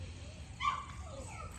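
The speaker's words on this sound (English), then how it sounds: "Puppy. Gentle." A young puppy gives a brief, faint whimpering yip, a single soft cry over low background rumble, close by and alone without talk.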